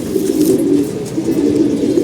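Racing pigeons coo in soft, overlapping rolling calls, close by and continuous, with no talking.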